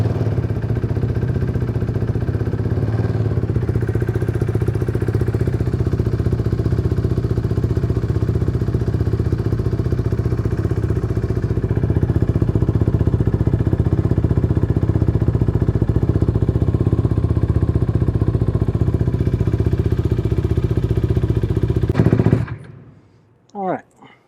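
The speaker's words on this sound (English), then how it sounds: "the bike starts and operates as normal, which is good" A KTM RC390 motorcycle with a newly fitted quickshifter idles and runs with a steady, loud engine drone that lifts slightly midway, then cuts off abruptly near the end, followed by a brief faint sound.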